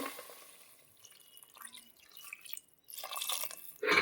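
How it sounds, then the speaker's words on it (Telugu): Water is poured onto vegetables frying in a pan for sambar: carrot, tomato and drumstick pieces. The dripping and splashing is soft at first, pauses briefly, then comes back louder with a spattering hiss near the end. "మనకి కాయగూరలు కొంచెం ఒక 2 నిమిషాలు వేగిన తర్వాత 1 కప్పు వాటర్ పోస్తుంది."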